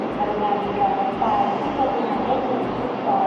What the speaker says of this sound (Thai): รถไฟมาละมาละ มาแล้ว